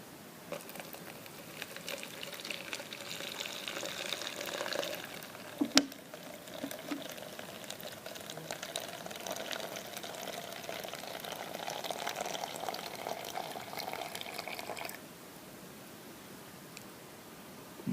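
Water pours in a steady, faint trickling stream into a Tantalus cup for several seconds, then stops abruptly and leaves near silence.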